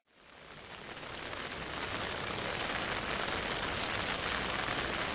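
Heavy rain pours over the Maliya Hatina area as a dense, continuous hiss. It swells quickly at the start, then holds steady and fairly loud, with no voices.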